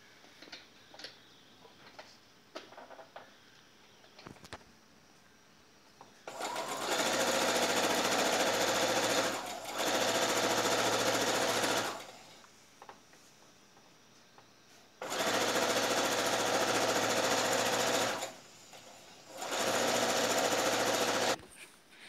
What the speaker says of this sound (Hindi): अब पूरे में सिलाई दे देंगे